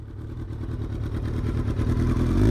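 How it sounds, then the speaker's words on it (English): Kawasaki ZX-12R sport motorcycle with a 1199cc inline four-cylinder engine rumbles close by, its throbbing note building steadily in loudness as the engine revs rise. "1199cc inline 4-cylinder engine ZX-12R produces 190 horsepower"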